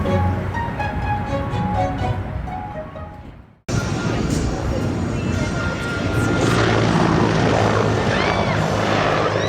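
A loud, close helicopter roar with broad rotor noise fills the clip, briefly cutting out then returning steady and strong as it passes overhead, heard from a boat near Chicago.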